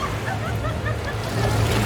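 Water rushes and splashes steadily around river rafts on a theme park ride, a continuous close wash of surf-like noise that swells slightly toward the end.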